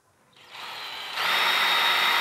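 A power drill spins up close and loud, driving screws to fix a ceramic washbasin to a wall. Its whine rises in two steps to a sustained high-speed whir.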